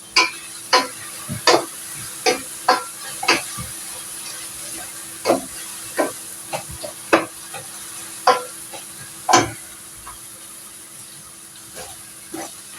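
Eggplant being stirred and sautéed in a pot with a spoon, repeated close scraping strokes at an irregular pace over a soft sizzle.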